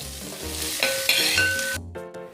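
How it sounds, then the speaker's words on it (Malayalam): Sliced onions sautéing in a pan until browned, a steady sizzle with stirring scrapes, close and moderately loud, with a short tonal kitchen beep partway through. "സബോള ഒന്ന് ബ്രൗൺ കളർ ആവണ വരെ നമുക്ക് വഴറ്റാം."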